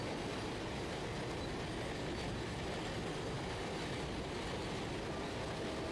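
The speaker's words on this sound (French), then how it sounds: "Camions et trains filent dans tous les sens ici." Steady rumble of trains rolling past in India, a continuous loud clatter of rail cars with faint clickety-clack and wheel squeal, no voices.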